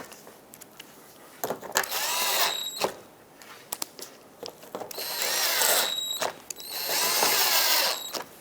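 Power drill driving screws into a Mazda 6 bumper cover, a few whirring bursts of varying length with quiet pauses between, close and moderately loud.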